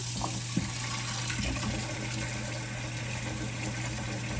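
Water streams steadily from a tap into a sink, a continuous splashing rush with a faint low hum underneath and no talking.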